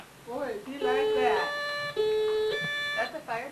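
A toy fire engine sounds an electronic siren of steady, buzzy tones that step between pitches, with a voice talking over it near the start and end.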